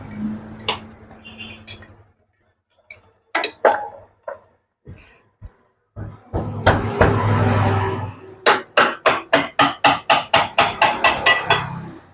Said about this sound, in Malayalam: ഇനി നമ്മൾ ഈ ഒരു പീസിനെ ഇവിടെ നിന്ന് തട്ടി നമുക്ക് വെളിയിലോട്ട് എടുക്കണം